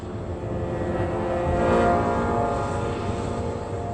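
Engine drone of an AWACS Airborne Warning and Control System aircraft, a steady tonal hum with layered harmonics, swelling slightly midway and holding constant, no voices present.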